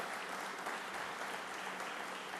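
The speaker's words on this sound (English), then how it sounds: "Please give them a big round of applause for their commitment." Crowd applause for community organizations at a Bronx infrastructure event with New York Governor Kathy Hochul, a steady wash of clapping from a large audience, heard somewhat distant and faint.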